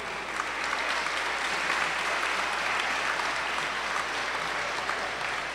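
Steady, full applause from a festival audience at a Guanacaste folklore celebration, dense clapping sustained evenly throughout without pause or talk.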